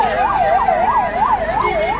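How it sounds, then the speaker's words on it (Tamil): An ambulance siren on the road during the Girivalam pilgrimage at Thiruvannamalai wails loudly and close in a steady rising-and-falling cycle over a continuous traffic rumble. "ஆம்புலன்ஸே போச்சு தொங்கிட்டு போகிறானுங்க பார்த்தீங்களா"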